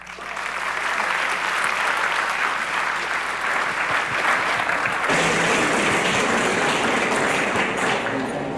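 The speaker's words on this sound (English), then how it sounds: "Let's give another round of applause to Maureen Phan, the president and CEO" Sustained applause from a conference audience after a talk, a dense, even wash of clapping that holds strong for several seconds and swells slightly near the end.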